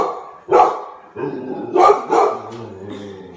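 A dog indoors at home barks about four times in quick, uneven succession, close and loud, likely at a package arriving.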